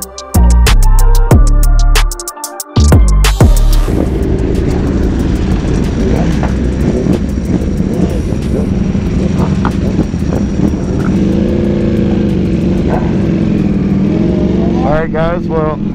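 Sport motorcycles, a Ducati Panigale V4 SP2, BMW S1000RR and Aprilia RSV4, revving hard inside a Dallas tunnel, with sharp loud bursts up front, then a booming echoing roar and more revving behind people talking.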